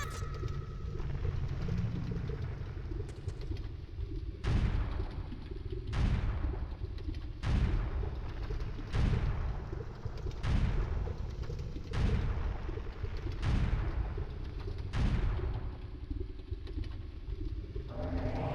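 Repeated bomb blasts in The Legend of Zelda: Ocarina of Time on PC, in the boss fight against King Dodongo in Dodongo's Cavern, about nine heavy booms at a steady pace of roughly one every one and a half seconds over a rumbling game background.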